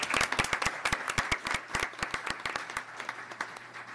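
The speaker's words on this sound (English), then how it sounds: "One more round of applause as Principal Lee heads to his seat." An audience at a Duval County school board meeting applauds, a brisk round of many hands clapping close by that holds steady and then thins out toward the end.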